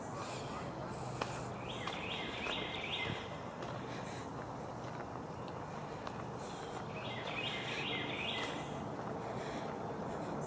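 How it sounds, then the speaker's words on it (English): A warbler sings in two short bright phrases during a hike at Cove Lake State Park in Tennessee, fairly distant, over steady wind and outdoor background noise. "Warbler, I think."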